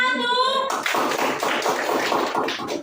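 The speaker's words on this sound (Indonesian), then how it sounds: "tepuk tangan dulu buat kelompok 1" A classroom of pupils claps for a student group, a tonal voice briefly at the start giving way to a fairly close, busy patter of many small hands that holds steady for the rest.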